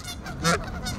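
A goose honks loudly and close by in one clear, harsh honk at mid-clip, with fainter honking calls just before and after, and no talking.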